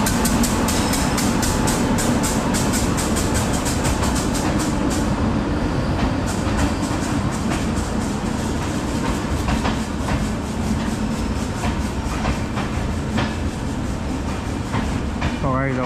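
The Kashi Tamil Express rolls into platform 3 at a station in Tamil Nadu, a loud continuous rumble with rhythmic clickety-clack of wheels over rail joints, heard close for the whole stretch.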